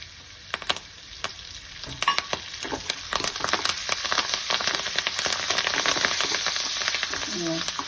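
Cashews, crushed pepper, dried red chillies and curry leaves fry in a hot tempering for kattu pongali, a crackling sizzle that grows louder and busier as spoon stirring and sharp pops pile up.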